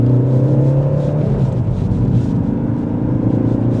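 A diesel Ford Focus ST with a 2.0 TDCi engine of 177 bhp under hard acceleration, a steady close engine drone and road rumble filling the cabin, with no talking.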